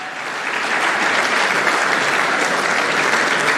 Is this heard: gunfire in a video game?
no